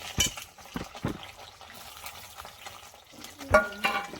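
Chopped onion drops into hot oil in a wok with black cumin and green chilli, giving a steady sizzle broken by several sharp clatters and scrapes of stirring, close and fairly loud.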